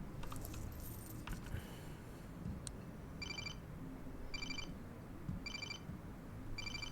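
Keys jangle faintly in the video game Life is Strange, with a brief metallic clatter at the start, followed by a quiet electronic ringing chirp that repeats every second or so.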